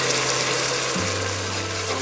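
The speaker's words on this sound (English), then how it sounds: "Add 1 cup of water." A cup of water goes into a pan of dark-brown fried onions cooking in butter for Peshawar-style Bannu beef pulao, producing a loud, dense, continuous hiss that holds steady throughout, with no talk.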